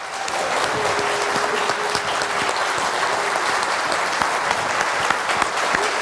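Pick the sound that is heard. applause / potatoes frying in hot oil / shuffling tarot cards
applause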